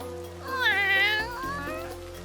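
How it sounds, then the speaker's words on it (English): A cat meows in a long, drawn-out wail during heavy rain, against a steady hum of background noise. "A cat!"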